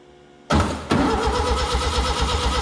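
A Volkswagen Beetle kit car engine that has sat for 30 years cranks over suddenly and loudly, a brief jolt followed by a steady rapid rhythmic churn of the starter and engine turning, close up with no voices.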